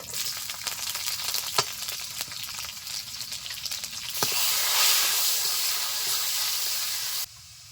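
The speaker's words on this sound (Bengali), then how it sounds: "পেঁয়াজ রসুনগুলো ভাজা ভাজা হয়ে আসছে" Onion and garlic fry in oil with dried red chillies and nigella seeds for a lentil dish, crackling steadily with occasional stirring knocks, then swelling into a louder, hissing sizzle before cutting off abruptly.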